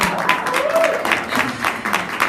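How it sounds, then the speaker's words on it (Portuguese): Church congregation applauding a brother at a spiritual intercession seminar, a steady wash of clapping close and fairly loud for the whole stretch, with a voice faintly rising through it. "Pode dar uma salva de palmas para o Senhor?"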